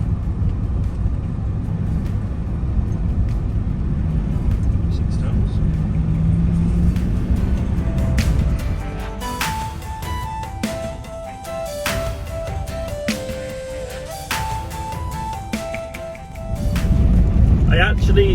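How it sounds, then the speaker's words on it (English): A car drives along a winter ice road laid over frozen ocean, its low rumble and tyre noise steady, then thinning as someone speaks over it, with scattered knocks and clicks before the rumble swells again. "I'm driving on an ice road"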